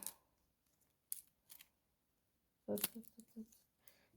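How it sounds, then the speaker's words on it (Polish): Cardboard and plastic packaging of a large LEGO set being torn and opened up close, with a few short crinkles and rips early on, then a louder burst of tearing and rustling near the end. "więc go sobie razem teraz odpakujemy"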